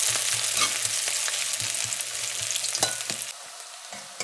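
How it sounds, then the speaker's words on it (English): Onions fry in oil with a loud, continuous crackling sizzle and scattered pops, fading slightly toward the end. "So we fried up our onion for about 45 seconds or so."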